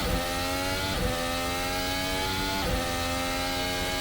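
Formula One car engine in a racing video game at the Chinese Grand Prix, a steady high-pitched whine with layered harmonics that dips briefly around each gear change, loud and alone throughout.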